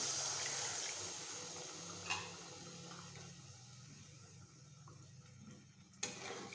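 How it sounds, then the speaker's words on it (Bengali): Water pours into a cooking pan of sautéed spices for a parshe fish curry, a soft rushing gush that fades into quiet bubbling, with a few light clicks of utensils against the pan. "এইবার আমি এখানে জল দিয়ে দিচ্ছি"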